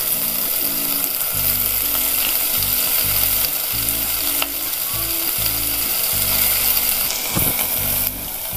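Capsicum masala cooks in a covered pan, giving a continuous close sizzle and bubbling with a rhythmic low thumping pattern beneath it, steady and unbroken throughout.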